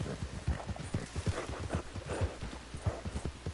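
Horse hooves clip-clop in the Roblox game Jailbreak, a steady, brisk run of hoofbeats close up and fairly loud, with no talk over them.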